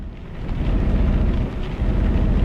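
Steady, dense rain hisses in a thunderstorm in Euro Truck Simulator 2, a continuous loud wash of falling water with a deep rumbling underlayer and no pauses.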